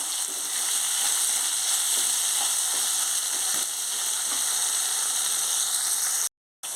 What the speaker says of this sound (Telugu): టమాటీలు మగ్గడానికి కొంచెం సాల్ట్ వేసుకుందాం అలాగే కొంచెం పసుపు కూడా వేసుకుందాం ఇప్పుడు ఒకసారి కలుపుకొని మూత పెట్టుకుందాం